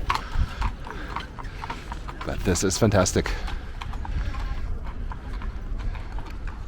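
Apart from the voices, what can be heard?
horse hooves clip-clopping, fiacres in Vienna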